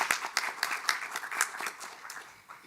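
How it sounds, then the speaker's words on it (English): An audience at a university convocation meeting gives a round of applause, a moderate, fairly distant patter of many hands clapping that fades toward the end. "can we give them a round of applause?"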